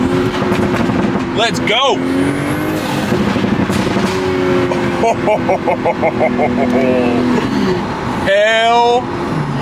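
A turbocharged MK5 Toyota Supra fitted with an HKS cold air intake revs loud and close from inside the cabin with the windows down, engine pitch climbing and dropping through shifts with sharp whooshes, while excited voices shout over it.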